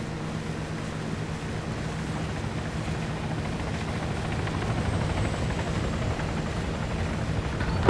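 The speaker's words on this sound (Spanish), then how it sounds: "Helicópteros aliados sobrepasando desde las 6." Allied military helicopters pass overhead during an airsoft-style operation, a steady low rotor rumble that slowly swells in loudness across the clip with no talk.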